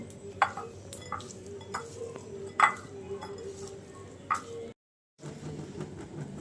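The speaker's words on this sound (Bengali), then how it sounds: "এখন মাছটা মাখিয়ে নিব লবণ আর হলুদ দিয়ে সামান্য লবণ সামান্য পরিমাণ হলুদ গুঁড়ো এখন ভালো করে মাখিয়ে নেব" Small kachki fish being hand-mixed with salt and turmeric in a bowl, giving soft wet squelches and intermittent light clinks against the dish, with a brief silent gap near the end.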